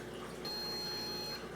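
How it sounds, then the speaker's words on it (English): A single quiet electronic beep from an iDoo 10-pod hydroponics grower, a thin steady high tone lasting about a second over faint background hiss. "If I do same thing on iDoo 10 pod model, we can see little beep. That's the beep."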